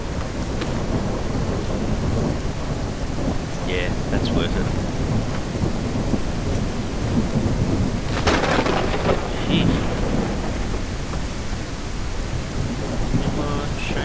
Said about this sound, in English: wasn't expecting like a storm